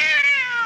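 A domestic cat lets out a single loud, close meow that slides downward in pitch, with no other sounds around it.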